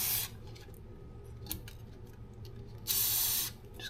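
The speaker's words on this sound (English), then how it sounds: "just kind of spray the metal that I can see that" Fluid Film sprayed from an aerosol can onto the metal underbody of a Ford Maverick truck near the rear wheel: two short hissing bursts, one at the start and one longer near the end, close and clear.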